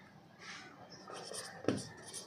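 Marker or chalk scratching across a board while a trigonometry problem is written out, soft intermittent strokes and taps close by, with faint talk underneath.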